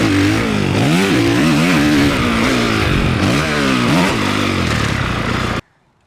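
Dirt motorcycle on a motocross track, engine revving and wavering in pitch as the rider throttles through a jump, loud and close, then cutting abruptly to silence.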